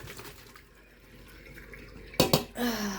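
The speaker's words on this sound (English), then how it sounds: "Okay, out of the pan, into the colander." Hot food and liquid pour from a pan into a colander, a short gushing splash near the end after quieter kitchen handling noises.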